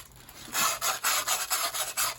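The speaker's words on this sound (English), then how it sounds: "Fold our sandpaper up into a more rounded surface." Folded sandpaper rubs the inner edge of a turned wooden goblet in short, close, rhythmic rasping strokes, about six of them, quiet and alone with no talk.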